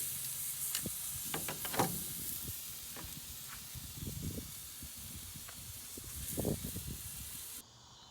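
Marinated meat sears on an outdoor grill with a steady broad hiss and sizzle, spotted with soft pops and crackles, fairly close and continuous before cutting off near the end.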